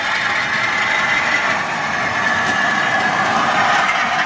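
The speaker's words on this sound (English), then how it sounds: "Let's get the coal train out of the way." A model coal train running on a layout track gives a continuous close rumbling rattle of wheels and motor, steady in level throughout with no talk.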